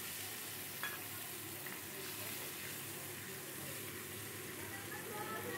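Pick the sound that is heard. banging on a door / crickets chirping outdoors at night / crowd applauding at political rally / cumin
cumin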